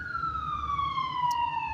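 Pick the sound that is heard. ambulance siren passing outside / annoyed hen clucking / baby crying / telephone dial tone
ambulance siren passing outside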